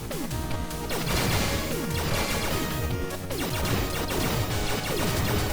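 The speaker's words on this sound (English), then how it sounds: "Again, I don't know why I'm smashing shit." Objects smashed in the video game Blaster Master, a dense run of repeated crashing, thudding hits over a loud steady game soundtrack, no talk.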